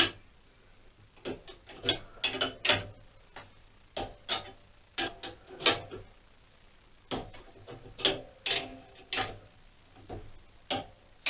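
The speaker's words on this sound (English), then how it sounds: "Obviously got to make sure that I tighten up the bolts evenly." Ratchet clicking in quick uneven runs while bolts are tightened on a homemade motorcycle spring compressor in a workshop, with metallic ticks and small knocks and a low steady hum beneath.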